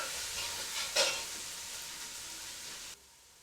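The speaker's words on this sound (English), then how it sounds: "add 1 red onion which has been finely chopped. Mix the ingredients well and cook until the onions brown." Garlic ginger paste and finely chopped red onion frying in a pan, with a soft, steady hiss of sizzling, a brief louder stir about a second in, then the sound drops away near the end.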